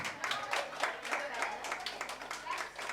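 Audience at a children's festival in an apartment complex claps for a young performer, a run of quick, overlapping hand claps at moderate volume over a soft crowd murmur.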